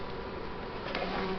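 Honey bees buzz continuously at a hive during varroa mite treatment, a dense close-up hum with no talking.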